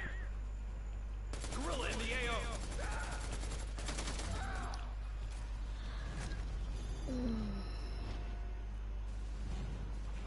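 Gunfire in Apex Legends, bursts of rapid automatic shots crackling over a steady game background hum, with some quieter scattered game effects afterward and no talk.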